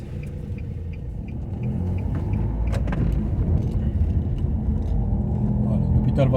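Car interior rumble while driving behind the hospital in La Roche-sur-Yon, a steady low engine and road drone that swells slightly midway, with light clicks and rattles and a person talking over it.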